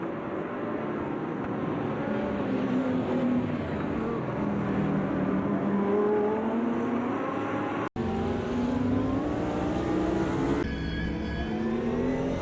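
Sim racing cars in a race at Mosport, a black BMW among them, with engines rising and falling in pitch as they accelerate together, loud and steady, a brief gap near the end before the roar resumes.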